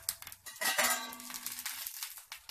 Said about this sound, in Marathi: आपण झाकण काढूया.